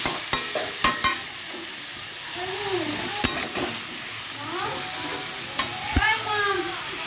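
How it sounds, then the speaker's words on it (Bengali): Potatoes frying with ginger and chilli in a pan, a steady loud sizzle broken by repeated sharp metal clinks and scrapes of a spatula stirring, no talk. "এটা দিয়ে একটু নাড়বো, ভাজা ভাজা করবো।"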